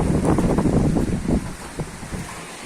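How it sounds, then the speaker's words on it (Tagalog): Strong wind gusts roar and buffet the microphone during a rainstorm with flooding, loud rushing bursts that ease slightly toward the end. "Yan o, lakas ng hangin."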